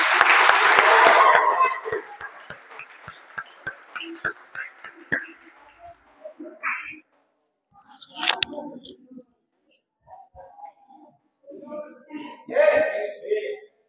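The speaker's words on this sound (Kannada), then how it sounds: "ಚಪ್ಪಾಳೆ ತಡ್ರಿ" Scattered applause from an audience at a birthday celebration held in a school for physically handicapped children, a burst of clapping at the start that fades into sparse claps amid murmurs and talking.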